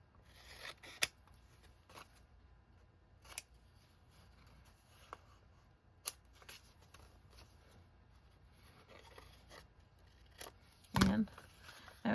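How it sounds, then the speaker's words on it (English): Scissors snip along the sides of paper pockets made from printables for a junk journal, giving a few sharp, close cuts with quiet paper handling between them and a louder crunch near the end. "you need to always trim the sides, start in the corner and go in"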